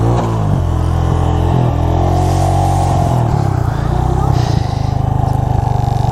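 A motorcycle climbs a steep off-road slope in the Phandar valley, carrying two riders; the engine drones loudly and revs harder toward the end while a voice talks over it.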